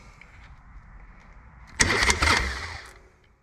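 Low background rumble, then a Harley-Davidson Sportster 883 Iron engine cranks and catches with a sudden loud roar, running rough and uneven for about a second before fading.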